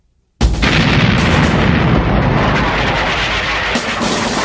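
Battleship guns shelling Iwo Jima hit with a sudden loud blast, followed by a sustained roaring rumble of bombardment that stays dense and heavy throughout, with no talk.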